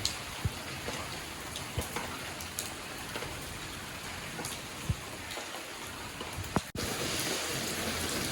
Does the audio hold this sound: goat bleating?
no